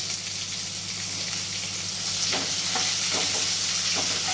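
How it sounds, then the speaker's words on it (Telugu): Chopped onions fry in hot oil for dahi tadka, a steady close crackling sizzle that grows slightly louder midway, with soft stirring clicks and no voices. "ఈ టైంలో అయితే మనకు కట్టేసుకున్న ఆనియన్స్ వేసుకోవాలి. ఇవి కూడా కొంచెం ఆయిల్లో గోలాలి."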